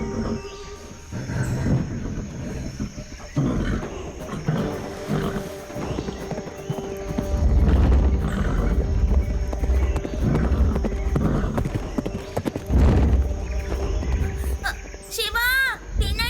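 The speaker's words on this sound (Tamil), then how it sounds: "ஒரு புல் வந்துட்டு இருக்கு. சீக்கிரம் ஓடுங்க." In an animated adventure, a bull charges with heavy, rumbling hoof thuds and an animal roar over a loud, busy background, while voices speak through much of it.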